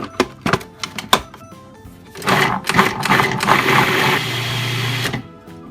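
Canned chickpeas whirring in a food processor for falafel, a steady motor drone lasting about three seconds after a few short clicks and knocks, with no talking.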